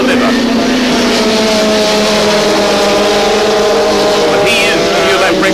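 Honda 750 and Yamaha racing motorcycles at Lakeside Raceway, a loud sustained engine howl with shifting pitch as the bikes pass close, heard under commentary.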